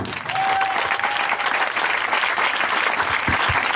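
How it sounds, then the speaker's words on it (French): A church congregation bursts into sustained applause and cheering to acclaim the Lord, a dense, loud wash of clapping that fills the whole stretch with a few brief voices rising within it. "Est-ce que tu peux acclamer le Seigneur?"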